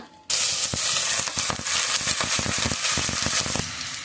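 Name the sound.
onions frying in oil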